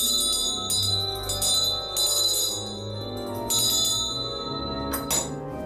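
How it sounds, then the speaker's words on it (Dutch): A meeting bell at a weekly party caucus rings with a steady, sustained high tone broken by a few louder metallic bursts, fairly close and without talk over it. "Bel is gegaan."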